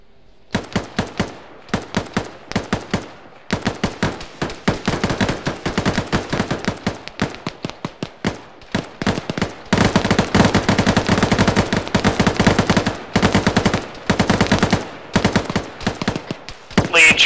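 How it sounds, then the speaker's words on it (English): Gunfire in the ArmA 3 SOG game, rapid bursts of automatic and single shots in quick succession for the whole stretch, loud and sharp, some volleys nearer and denser than others. "there's more shots coming from west now"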